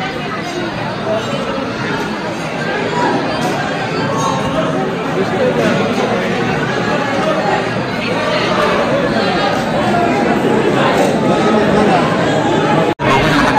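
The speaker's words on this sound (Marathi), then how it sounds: "चला बघू शकता किती गर्दी आहे इथे" Dense crowd chatter fills a packed Hindu temple where people stand queued in line, a steady, close hubbub of many overlapping voices running throughout with no pauses.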